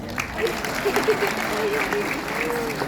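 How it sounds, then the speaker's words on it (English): A seminar audience in Manila applauds continuously with a dense, even wash of clapping, while a faint voice carries on underneath. "Please give yourself a round of applause."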